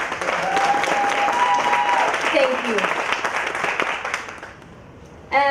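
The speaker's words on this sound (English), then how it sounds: "Please give yourselves a round of applause." An audience at a national voter registration campaign launch claps loudly and continuously, with whistles and cheers riding on top, before the applause thins out and fades near the end, where a brief sharp sound cuts in.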